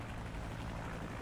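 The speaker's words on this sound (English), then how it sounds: "Take out that helicopter, it'll buy us some time." Helicopter in the Call of Duty 4: Modern Warfare game, a faint, steady rotor and engine rumble with a low drone that holds evenly and has no other sounds over it.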